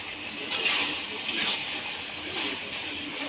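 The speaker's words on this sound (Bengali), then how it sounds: "এবার নেড়ে নেব" Malabar spinach curry is stirred in a pan, with soft clinks and scrapes of a utensil against metal repeating at a fairly quiet level over a low background hiss.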